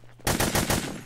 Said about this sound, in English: Are they shooting at you, or are they just blindly firing?